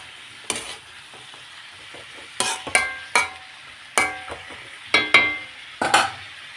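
A spoon stirs shrimp and ash gourd curry with cumin powder and salt in a pot, giving a series of distinct scraping, clinking strokes every half second or so over a faint background sizzle.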